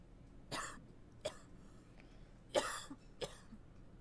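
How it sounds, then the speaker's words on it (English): Several sharp coughs and a throat-clearing burst, close by, in separate bursts spread over a few seconds with quiet room tone between them. "hearing myself cough makes me want to cough now"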